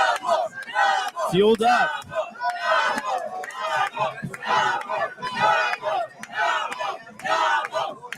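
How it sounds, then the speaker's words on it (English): Crowd at a live karate combat event cheering a fighter: continuous shouting and roaring from many voices, loud and close, with a commentator's voice briefly over it. "A lot of people cheering for him."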